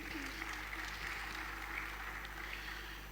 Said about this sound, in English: A round of applause once again for him.